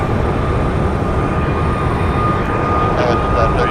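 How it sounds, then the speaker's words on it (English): A Boeing 787 Dreamliner taxis toward the listener at Phoenix Sky Harbor Airport, giving off a steady, dense engine rumble and whine with a faint high tone running throughout. "And here's our Dreamliner. Taxiing our direction."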